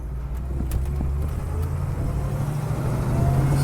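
A 1969 Chevrolet Camaro SS drives along the road with a steady low engine drone, and the hum swells slightly toward the end with no voices over it.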